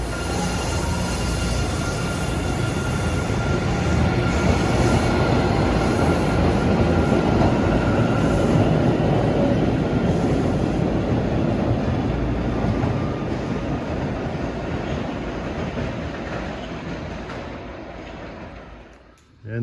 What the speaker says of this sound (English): There's a Wonderland train coming down a grade into Aquarium.